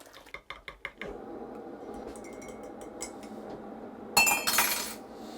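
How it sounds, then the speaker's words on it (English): Coffee being made in an unwashed, only rinsed cup in a workshop: a quick run of ceramic clinks and taps, a soft steady pour or hiss, then a brighter rattling clatter of spoon and cup near the end, close and fairly quiet. "Coffee going in."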